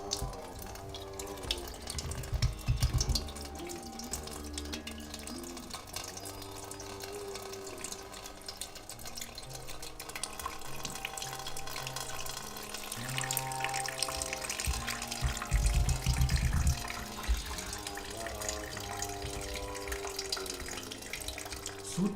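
Water pours steadily from a lota, a small metal pot, during jala neti nasal cleansing, a continuous close trickling and gurgling stream that swells slightly at moments, with no talk.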